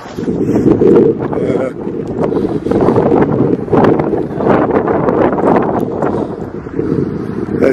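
Strong wind buffets the microphone in loud, rumbling gusts that rise and fall without letup.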